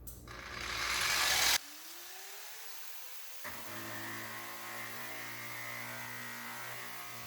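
A Bauer surface conditioning tool with a finer grit pad spins up into a loud rising whine, cuts off abruptly, then restarts into a steady, quieter mechanical hum with a gear-like drone.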